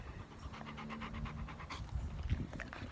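A dog panting rapidly and rhythmically close by, quick regular breaths over a low background rumble, lasting about three seconds with no talking.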